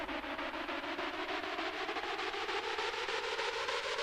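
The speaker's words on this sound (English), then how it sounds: "Here's the build up that I use automations to turn up the notes." A trap build-up with automated notes rising in intensity, a fast even pulse driving dense synth layers that climb steadily, loud and continuous with no talking.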